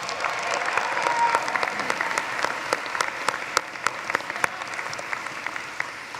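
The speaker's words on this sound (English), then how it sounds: "Let's give them a round of applause." Sustained applause from a large audience in an arena at a college commencement ceremony, greeting the musicians who just performed; dense steady clapping with sharper individual claps standing out, fairly loud and continuous throughout.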